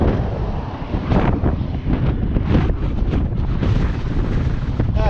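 Strong wind roars steadily across the microphone during a ride, a loud, constant buffeting rush with gusty swells and no voices.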